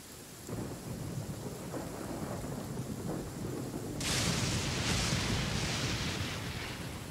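Thunder rumbling with steady rain in the video game Genshin Impact, a continuous storm wash that swells louder and brighter partway through as a close thunder crack rolls in, with no voices.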